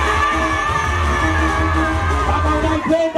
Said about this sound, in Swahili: We kama unaipenda Yanga Afrika piga kelele kidogo.